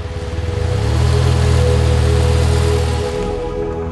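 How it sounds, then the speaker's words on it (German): A motorcycle engine drones loudly and steadily as it rides from Sanaa toward Ma'arib in Yemen, swelling to a close, sustained roar before easing slightly near the end. "So fahren wir von Sanaa mit dem Motorrad nach Ma'arib."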